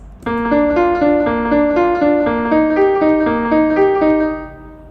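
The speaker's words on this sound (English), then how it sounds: "So I changed the accompaniment pattern to Alberti bass." Piano plays a rolling Alberti bass, broken chords cycling low-high-middle-high in a steady even pulse beneath a simple melody, clear and close, fading at the end.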